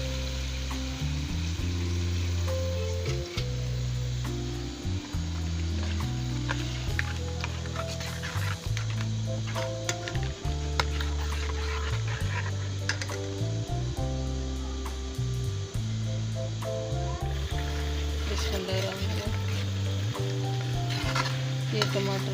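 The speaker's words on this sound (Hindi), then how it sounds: "ये टमाटर, प्याज, लहसुन अदरक, सब्ज़ मिर्ची, ये सब चीज़ें फ्राई हो गई हैं" A paste of tomato, onion, garlic, ginger and green chili sizzles steadily in a pan while a spoon stirs it with repeated scraping strokes, loud and close throughout.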